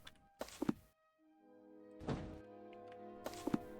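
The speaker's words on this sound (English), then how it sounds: "This cannon is heavy, but I will be able to push" A heavy cannon shoved along in the Sherlock Holmes: Nemesis video game, giving three dull, resonant thunks spaced about a second apart, each ringing briefly, clear and alone with no voices.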